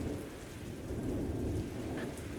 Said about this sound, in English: you guys have peace in the dark swamp as the rain beats down on you